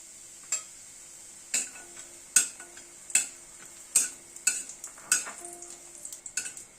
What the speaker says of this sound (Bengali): তেলটা গরম হওয়ার পরে প্রথমে কয়েকটা বড়ি ভেজে নিচ্ছি।